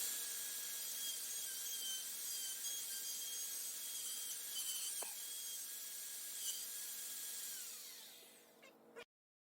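A router traces around an oval template, cutting an oval-shaped tenon on a wooden bench leg; a steady high whine runs close and continuous, then winds down near the end with a short final knock.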